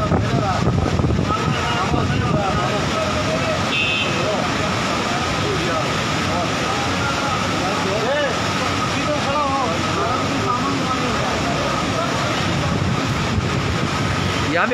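Floodwater after heavy rain in Swat, Pakistan, rushing in a loud continuous roar that fills the whole stretch without pause, close by, with a voice faintly audible under the torrent.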